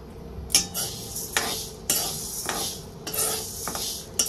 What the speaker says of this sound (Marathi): तर गॅसवर कढई ठेवलेली आहे, कढईमध्ये मूग टाकून घेतलेला आहे।